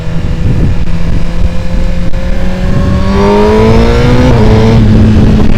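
A stock, untuned 2025 Suzuki GSX-R1000R engine pulls hard through the gears, a loud continuous roar with rising pitch sweeps and a shift near the end, heavily buffeted by wind noise.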